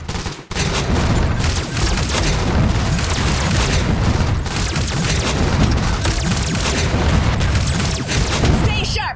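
Soldiers firing together in the Iron Marine video game, a dense, loud, continuous fusillade of gunshots and booms filling the whole stretch with hardly a pause.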